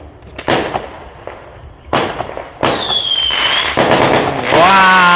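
Fireworks and firecrackers set off for the second day of Lunar New Year, loud sharp bursts and crackling volleys in quick succession, with whistling rockets rising and distant voices faintly heard.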